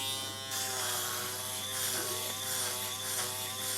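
An Aberlite Touch 2 rechargeable electric head shaver runs with a steady, close, harmonic buzz that continues evenly throughout with slight variations in tone.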